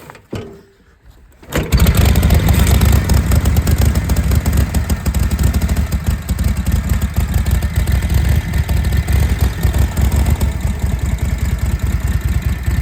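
A 1949 Harley-Davidson WL flathead barn-find motorcycle engine fires up after a brief quiet moment and settles into a loud, steady, low idle that runs on without pause.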